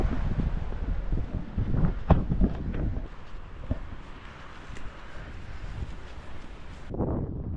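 Wind gusting on an outdoor hike on a hot sunny day, a broad low rumble and buffeting against the microphone that stays steady for several seconds, strongest in the first half, with no voices.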